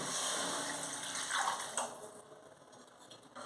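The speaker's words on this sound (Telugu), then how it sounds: "దీంట్లో నాలుగు కప్పులు వాటర్ పోస్తున్నాము" Four cups of water pour steadily into a pan for kodo millet upma for a couple of seconds, a broad rushing splash that eases off toward the end, with no voices.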